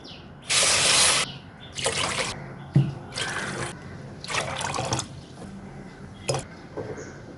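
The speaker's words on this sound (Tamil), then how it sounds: "5 கப் தண்ணி சேர்த்துக்கலாம்." Water runs into a pot in several bursts of steady splashing pouring while making rasmalai, stopping and starting, with a brief clink partway through and faint background sound between pours.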